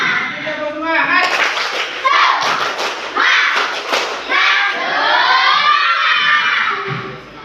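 A class of young pupils does a rhythmic spirit clap in an Indonesian primary classroom, sharp hand claps in quick bursts and patterns mixed with children's voices chanting and calling out over the noise.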